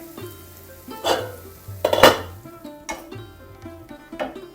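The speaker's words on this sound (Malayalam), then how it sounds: "ഇനി നമുക്ക് ഈ ഉരുളി ഇങ്ങോട്ട് വെക്കേ" A heavy bell-metal uruli pot is set down on a kitchen stove with two clanking metallic knocks. Softer scrapes and clinks of cookware come before and after, close by.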